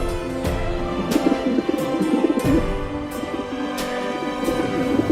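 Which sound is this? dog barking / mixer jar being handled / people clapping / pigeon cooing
pigeon cooing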